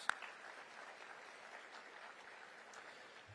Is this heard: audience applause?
yes